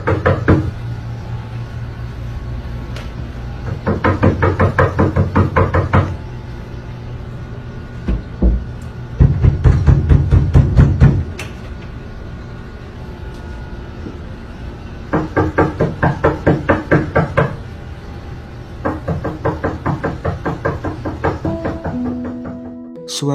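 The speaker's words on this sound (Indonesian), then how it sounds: "ia mendengar suara ketukan misterius di salah satu pintu kamar pasien" Knocking on a hospital patient room door, heard as several loud bursts of rapid raps separated by pauses of quiet room tone.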